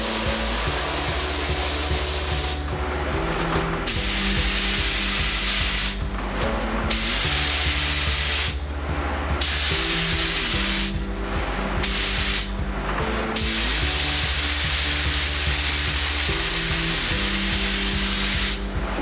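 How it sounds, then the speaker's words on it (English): Spray finish being applied inside and outside a drum shell on a turntable, a steady loud hiss running in long continuous passes broken by brief pauses. "And here we go with the spray. Just a quick spray inside and out"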